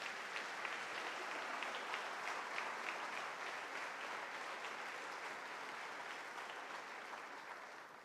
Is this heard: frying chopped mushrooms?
no